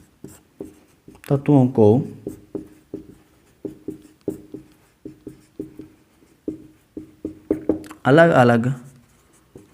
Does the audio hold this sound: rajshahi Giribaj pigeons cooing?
no